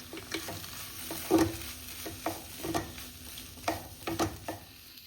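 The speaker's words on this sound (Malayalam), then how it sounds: "അങ്ങനെ നമ്മൾ മുട്ടച്ചോറെല്ലാം മിക്സ് ചെയ്തെടുക്കുക" A spoon scrapes and stirs egg rice with turmeric water and coriander leaves in a frying pan, giving a series of irregular scraping strokes over a faint background hiss.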